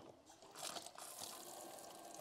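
A camper van sink tap in a VW California Ocean runs with a steady, close stream of water that splashes into the basin for a couple of seconds, with no one speaking.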